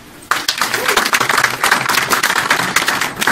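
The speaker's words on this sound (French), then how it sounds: "Freddy Assoua, que je demande d'applaudir." An audience claps in applause at a press cocktail event, a dense, steady burst of many hands that starts abruptly and keeps going loud to the end.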